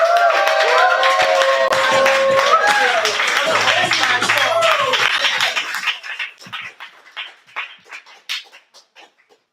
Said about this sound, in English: Clap it for Nikolai!